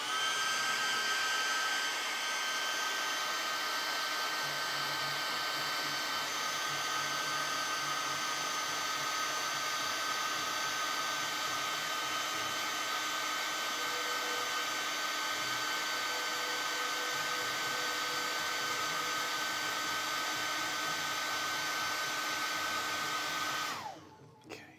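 Steady, loud whirring of a hair dryer blowing to dry paint on a tiny miniature figure, running continuously for over twenty seconds before switching off at the end.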